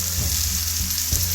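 Turmeric frying in a pan, giving a steady, close sizzle with soft stirring scrapes and no talk.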